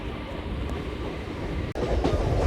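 A MEMU passenger train running on track, heard from on board as a steady close rumble with faint rail clatter and a single sharp click partway through.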